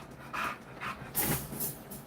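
A dog panting quietly nearby in short irregular bursts of breathy huffs, with no talk over it.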